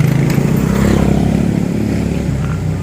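Motorcycles passing on a road, a loud continuous engine drone and rumble that stays close and steady throughout, with no voices.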